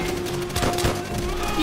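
Enemy machine gun fire in Call of Duty: World at War, rapid bursts crackling over a dense battlefield mix with explosions and continuous background noise, while voices shout nearby.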